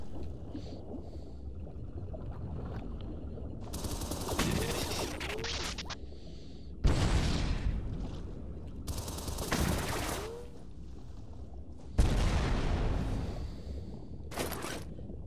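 An underwater gun in the video game Shadow Complex fires in several muffled bursts, each a sudden loud blast that trails off into watery rumbling, with quieter ambient hum in between.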